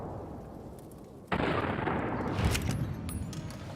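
A single sharp gunshot in Fallout New Vegas, a loud sudden blast with a brief echoing tail after a quiet ambient lead-in.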